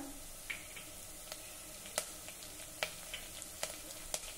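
Asafoetida and curry leaves sizzle in hot oil in a pan with fried onion and garlic, a steady quiet hiss broken by several sharp crackles and pops, close by with no talking.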